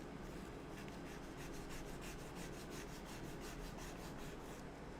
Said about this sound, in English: Sometimes the sandpaper is easier.